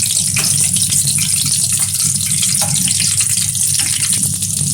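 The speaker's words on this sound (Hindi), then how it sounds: "बहुत ज़बरदस्त फ्राई हो रहे हैं माशाल्लाह से" Potato mince kababs fry in hot oil in a pan, a loud, dense, continuous sizzle that holds steady throughout with no talking.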